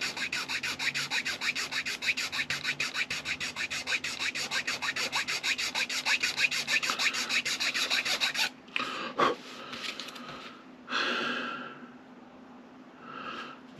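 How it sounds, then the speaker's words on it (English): Small file rasping flats onto a wooden bowsprit for a model ship, quick rhythmic back-and-forth strokes close up for about eight seconds, then a few scattered scrapes and handling noises. "And then come back and you just start filing in some flats."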